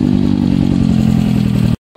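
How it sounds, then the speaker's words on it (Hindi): Sport motorcycles, including a Honda CBR 600 and a Kawasaki Z900, start up for a group ride. Their engines give a loud, steady, close rumble that cuts off abruptly. "तो यहाँ से बाइक शुरू हो रही है"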